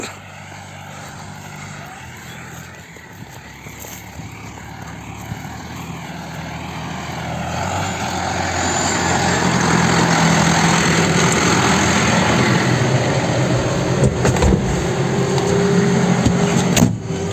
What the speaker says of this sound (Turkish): Şu anda traktörün içindeyiz.